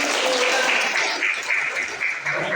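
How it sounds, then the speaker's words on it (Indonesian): A classroom group in an Indonesian teacher-training observation session bursts into applause, dense clapping from many hands that stays loud and continuous, dipping briefly before resuming. "Terima kasih. Tepuk tangan."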